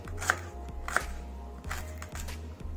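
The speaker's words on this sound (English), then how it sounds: "So this is how you have to chop the nadru," Knife chopping lotus stem (nadru) on a board in a home kitchen, a handful of crisp irregular cuts close by, with quiet pauses between strokes and no talk.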